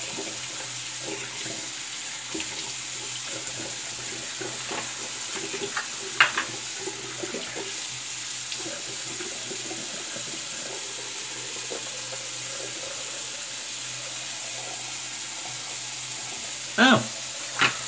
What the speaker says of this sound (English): So cold water rinse